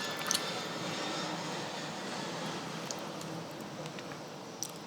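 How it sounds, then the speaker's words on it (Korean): A low-flying airplane drones steadily overhead, its broad engine roar filling the background with a few faint clicks. "비행기 소리 들려요? 가끔 비행기가 진짜 낮게 날아갈 때가 있거든?"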